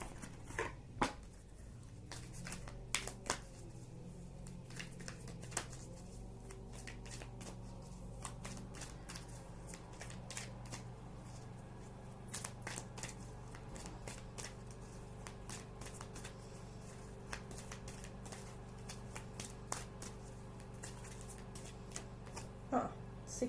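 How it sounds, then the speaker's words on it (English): Oracle cards are shuffled by hand in a quiet room, a long run of soft riffling flutters and sharp card snaps at an irregular rhythm, close and fairly faint. "I'm going to pull some oracle cards on the Earth sign."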